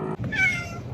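A frightened rescued cat, one of several abandoned in the Arizona desert, lets out a single close, plaintive meow from inside a carrier, rising and fading over a low background rumble.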